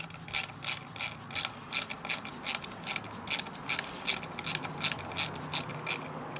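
A hand ratchet clicks rapidly in bursts as bolts on a 2010 Harley-Davidson Road Glide primary cover are run down in a pattern, crisp close metallic ticking repeating steadily with brief pauses.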